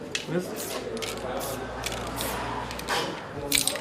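Hissing bursts of a spray paint can, several short sprays at irregular intervals, close by, with a low background hum and people talking now and then.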